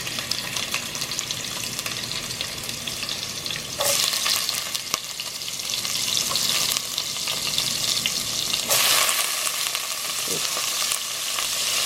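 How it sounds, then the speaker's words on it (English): Garlic, ginger and green onion sizzling in hot oil in a pan while cooking egg roll filling, a steady loud crackling fry with occasional bursts of stirring and scraping, close up and without talk. "So you just put some oil in, okay, let it heat up, and then we're gonna throw in the garlic and ginger and green onion"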